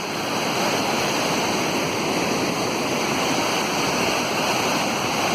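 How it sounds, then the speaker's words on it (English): Rogie Falls in Scotland pours with a steady, loud broadband roar of rushing water, unbroken and close by, with no voices over it. "Beautiful waterfall, Rogie Falls"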